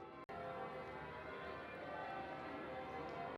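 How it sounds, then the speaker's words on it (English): Church bells ringing out in a small UK city, a dense, continuous metallic clangour with sustained overlapping tones, loud and steady throughout with a brief dropout near the start. "The bells are still going,"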